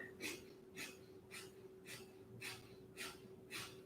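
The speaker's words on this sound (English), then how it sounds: "We'll do 10 pulses, little sniffs. Exhaling out the right side." Six short, sharp nasal sniffs come in an even rhythm about half a second apart during a yoga pulse-breathing exercise, faint and close against a quiet low hum, with no talking.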